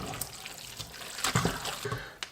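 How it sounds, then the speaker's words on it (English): Tomato puree is stirred into a cooked onion and beef mixture in a pan, making soft, wet squelching and scraping sounds in a brief, close, moderately quiet burst with no talking. "I'm stirring it really well to mix the tomato puree right through the onion and beef mixture"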